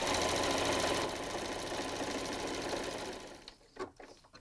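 A sewing machine runs a quarter-inch seam along a receiving blanket, its fast even needle rhythm loud and steady at first, slowing and stopping near the end with a few handling clicks.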